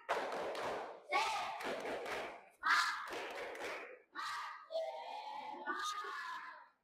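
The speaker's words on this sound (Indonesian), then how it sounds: "Sebelum kita mulai, mari kita tepuk semangat dulu." A classroom group shouting a rhythmic spirit chant in bursts, with loud unison voices and some thumping claps, close and energetic.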